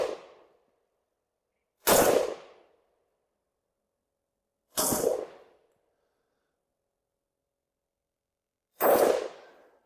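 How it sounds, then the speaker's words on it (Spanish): A Zastava M76 rifle fires single shots at a target: sharp loud cracks spaced several seconds apart, each with a short ringing echo, and silence between them. "primero veamos algunos disparos al blanco"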